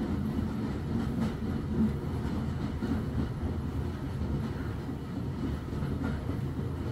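Train running over a high, curving railway bridge, a steady low rumble of rolling wagons with faint rhythmic clatter, moderately distant and continuous with no voices.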